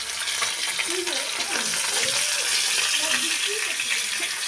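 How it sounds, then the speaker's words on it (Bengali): Small pieces of live pond katla fish fry slowly in hot oil, giving a steady close crackling sizzle with occasional bubbling, while a person talks over it. "এখানে আমি মাছগুলোকে আস্তে আস্তে ভেজে নিচ্ছি"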